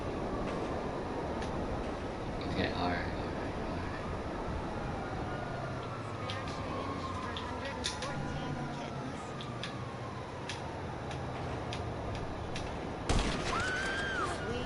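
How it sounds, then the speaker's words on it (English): A small train rolls past in GTA V with a long rumbling clatter, while gunshots and engine noise come and go and a person speaks briefly. "Probably won't even stop this little train."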